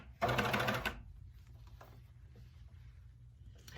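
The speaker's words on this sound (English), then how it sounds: "I like to use a leader to start off with whenever I'm cover stitching" A coverstitch sewing machine runs a short burst of stitching on a leggings seam started with a leader, loud and close for under a second, then stops and leaves quiet room noise.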